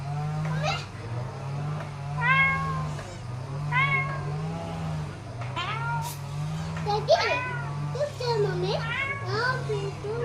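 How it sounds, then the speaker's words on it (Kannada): A cat meows repeatedly in rising, drawn-out cries over a low steady hum, with a voice joining near the end. "ಗಬ್ಬಿ ಈಗ ಮಿಯಾವ್ ಮೇವು ಕರಿ"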